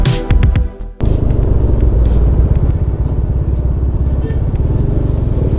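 A motorcycle accelerates hard through city traffic, its engine roaring loud and close in a steady, rumbling drone that continues after a brief quieter moment at the start.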